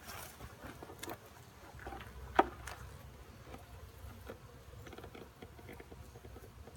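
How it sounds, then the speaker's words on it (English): Bees fly around an open beehive during an inspection, making a faint, continuous buzzing hum with a few soft taps and a single brief click. "There's a few too many bees flying around my head"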